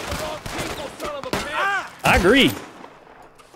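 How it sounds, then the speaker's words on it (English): Volcanic pistol shots fired in the video game Red Dead Redemption 2, several sharp cracks spaced over a few seconds, mixed with game sounds and a brief spoken remark. "I guess I'm finding out the range of these volcanic pistols."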